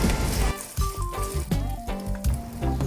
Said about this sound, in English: Dito naman, ilalagay ko na yung onions na hiniwa natin.